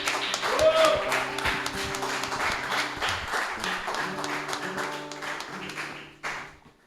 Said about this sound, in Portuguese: Vocês podem aplaudir o Senhor